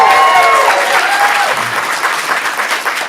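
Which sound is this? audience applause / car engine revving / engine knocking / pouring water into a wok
audience applause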